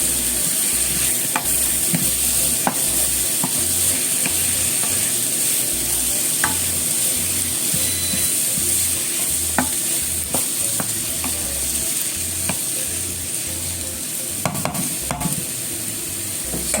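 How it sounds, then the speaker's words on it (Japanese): Vegetables for croquettes being stir-fried in a pan make a loud, continuous sizzle, with a rhythmic scraping and tossing pattern repeating throughout, and no voices. "野菜を炒めましょう"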